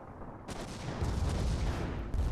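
Heavy flak guns fire in a space-battle video game. Dense, rumbling bursts blend into a continuous barrage of distant-sounding explosions with no voices.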